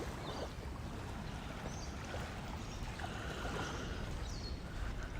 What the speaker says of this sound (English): Listening to the sounds of the waves